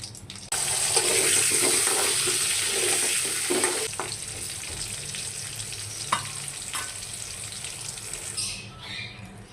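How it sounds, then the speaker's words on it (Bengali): Potatoes frying in a pan after chicken for a village-style chicken curry, a loud, dense hiss that eases after a few seconds, with occasional spoon scrapes and clanks and no talk. "এখন আলুগুলোকে ভেজে নেব।"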